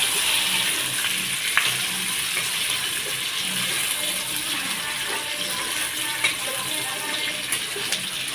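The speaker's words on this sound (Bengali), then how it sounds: "এই পেঁয়াজগুলোকে আমরা দিয়ে দেব, দিয়ে ভালো করে নাড়িয়ে নিচ্ছি।" Onion rings fry in hot oil and are stirred in the pan, giving a loud, continuous dense sizzle with occasional faint scrapes, close up and without speech.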